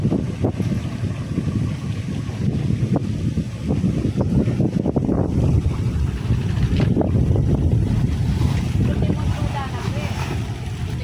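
A motorized boat, no longer rowed, on a lake: a close, rumbling engine drone with wind buffeting and water splashing, steady and loud throughout, with a voice occasionally heard over it.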